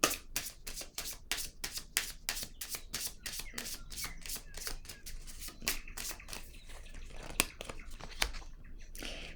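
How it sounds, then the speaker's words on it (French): Cards being handled and set down on a table during a tarot-style reading, a fast run of crisp, close slapping and shuffling clicks that thins toward the end, with no voices. "Je vais déposer une carte ici."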